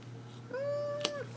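A pet cat lets out a single clear, drawn-out meow lasting under a second, close and alone over a faint steady background hum.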